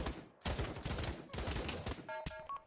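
Rapid gunfire in the Pavlov Shack gun game, a dense run of close, overlapping shots in quick bursts with brief gaps, ending in a short metallic tonal beep pattern.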